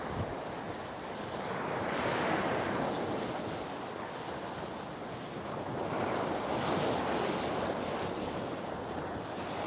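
Ocean waves wash onto a beach in a steady, broad rushing surf, with gentle swells in intensity and some wind noise, no voices.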